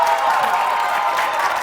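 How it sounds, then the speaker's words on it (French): Short burst of studio audience applause and cheering on a French television game show, a loud, continuous crowd wash with a sustained tone running underneath. "Applaudissons pour Agozo."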